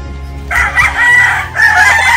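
A Super Brown Red rooster crows loudly and close by in a single long, wavering call that breaks briefly and then resumes, with low clucking and farmyard noise beneath.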